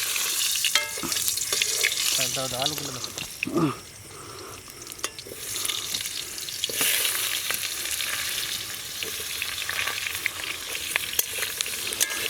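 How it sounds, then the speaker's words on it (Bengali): Potatoes fry in hot oil at a night picnic cooked outdoors, giving a loud, steady broadband sizzle that runs the whole time, broken by brief scraping stirs and a few short clatters. "এখন আমার আলুটা ছাড়া হচ্ছে ব্যাস তেলে ভাজা হবে এটা"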